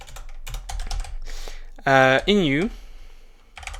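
Computer keyboard keys click in quick irregular bursts, near and distinct, while someone talks over and between the typing.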